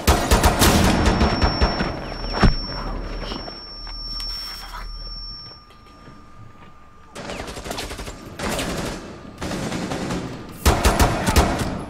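Gunfire in the Rainbow Six Siege video game comes in bursts of rapid automatic shots, loud and close, separated by quieter stretches with a ringing tone and footsteps.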